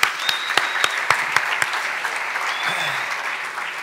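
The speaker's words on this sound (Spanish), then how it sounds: "Un aplauso para ustedes y para el sector." Conference audience applause, a scattering of sharp claps over a crowd's wash of clapping, steady for a few seconds and fading slightly toward the end.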